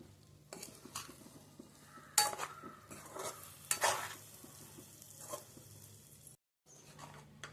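Spiced egg pickle with lemon juice being stirred in a pot, giving a continuous close scraping and wet mixing sound with a few sharper clinks of utensil against the vessel, and a brief silent gap near the end.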